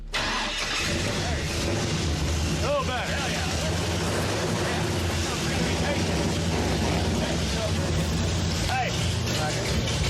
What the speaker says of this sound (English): Hey, I like that exhaust. That sounds like a stock car.